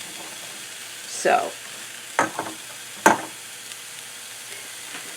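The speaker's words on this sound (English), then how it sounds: "I'm just going to saute this" Onions sautéing in oil in a pan, a soft steady sizzle broken by three louder stirring scrapes, close up, with one brief spoken word.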